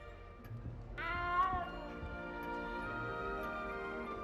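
Cat meowing in the video game Hogwarts Legacy, a single drawn-out, wavering meow rising then falling, close and fairly clear over a quiet game background hum.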